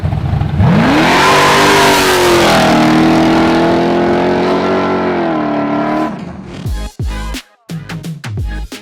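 An 850 hp Chevrolet Chevelle drag car launches hard, its loud engine climbing in pitch and holding a high roar for several seconds before cutting off into sharp bursts of revving and crackle, very close.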